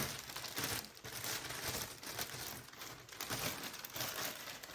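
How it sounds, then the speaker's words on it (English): Soft, continuous crinkling of a plastic mailing bag as two charger plates are placed inside, with irregular rustles and crackles close up. "I take my two plates and I place them inside this plastic"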